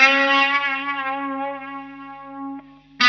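A distorted electric guitar holds a single bent note without being picked again, from a guitar solo. The note sustains cleanly and fades slowly, with a new attack at the very end.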